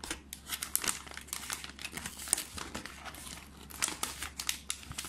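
Plastic bag crinkled and handled close by during a small gaming PC upgrade, a steady run of dense rustling and crackling lasting several seconds with no voices.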